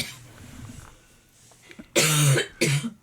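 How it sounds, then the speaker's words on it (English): A person with COVID lets out two loud, harsh coughs close by, following a quieter stretch of faint sound. "That's a COVID cough."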